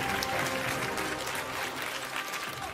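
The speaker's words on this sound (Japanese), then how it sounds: "それにはマンオン GP 選手も相手に拍手を送ります。" Steady applause from a crowd at a Clash Royale esports match, continuous and fairly loud throughout with a dense clapping texture and no clear speech.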